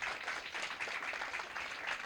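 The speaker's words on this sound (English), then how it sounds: "if we could just give a round of applause for our panel" Audience applause for a panel at an evening science festival event in Norwich, a steady dense wash of clapping from a crowd that holds level throughout without a break.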